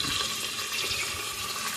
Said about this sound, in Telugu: నేను ఆ తక్కిన అనమాట నీళ్ళు వేస్తాను